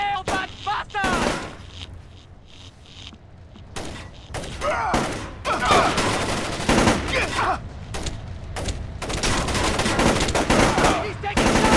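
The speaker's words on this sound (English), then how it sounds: "Make him stop! Incoming fire! Nail that bastard!" Dense gunfire rattles through a firefight in the 2005 stealth video game Splinter Cell Chaos Theory, with loud automatic bursts and single shots close by, and shouting game voices between them.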